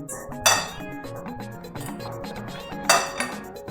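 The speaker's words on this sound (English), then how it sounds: "So the next thing is to mix with my fork." A fork clinks against a bowl while mixing tomato salsa, two sharp bright taps over a background of soft scraping and stirring.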